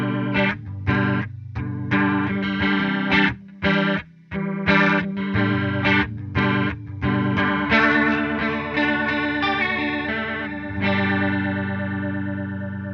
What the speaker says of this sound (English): The chorus effect takes your original guitar signal, doubles it, and shapes it slightly out of tune and time to make it sound like more instruments are playing together